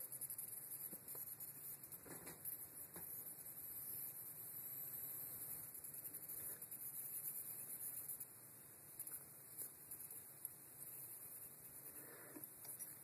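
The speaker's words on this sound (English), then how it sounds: "You can hear a little whine, but it's almost no amperage." A faint, steady high-pitched whine comes from a 26-stage, 8,200-volt voltage multiplier, with a low mains hum beneath it and a few soft clicks, no talking.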